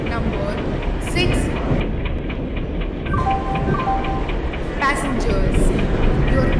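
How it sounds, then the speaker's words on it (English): A passenger express train pulls in at a station platform amid a loud, steady rumble, while a public-address announcement and station chimes sound over it. "Express is arriving at platform number 6."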